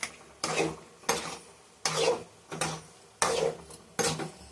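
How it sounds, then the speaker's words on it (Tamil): A spoon stirs seela dried fish into a thick Chennai-style kuzhambu in a pan, making close scraping and sloshing strokes in a steady repeating rhythm, six bursts with short pauses between them. "கருவாடை நம்ம ஆட் பண்ணிக்கலாம். நல்லா கிளறி விட்டுக்கலாம்."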